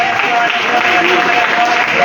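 A Pentecostal congregation in a church in Mogi Guaçu, Brazil, applauds together, a dense, continuous wash of clapping that fills the whole short stretch.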